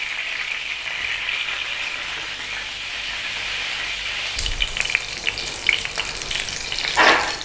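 Salmon fillet sears in a hot pan with a steady, close sizzle that runs unbroken, then turns busier and crackly near the end with a few sharp spits.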